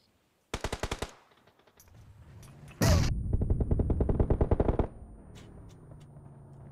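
Video game gunfire from PUBG Mobile: a short rapid burst of automatic shots, then a louder sustained burst of rapid fire with an impact, close and sharp, fading into quieter game ambience.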